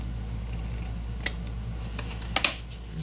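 A few quick scissor snips trimming a paper cutout for a straight-edge collage, with isolated cuts at around a second in and then a close pair near the end, against a quiet room.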